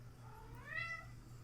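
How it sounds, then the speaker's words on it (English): A pet cat named Minnie gives a single drawn-out meow that rises and falls, fairly quiet against a steady low hum, with no talking. "Minnie, what are you meowing about over there?"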